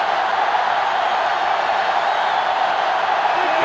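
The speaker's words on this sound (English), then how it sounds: "It's arguably the loudest crowd in the nation, and they are turning it up a notch." Dense stadium crowd roar in the NCAA Football 2005 video game during a Florida Gators vs Tennessee Volunteers rivalry game, a loud sustained wash of cheering that holds steady throughout.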